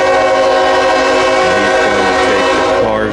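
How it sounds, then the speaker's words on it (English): Freight train Q300 passes near Woodbourne Yard, its loud sustained horn blaring steadily over the rumble of railcars close by, continuous throughout. "This is Q300 coming to do its work in Woodbourne Yard"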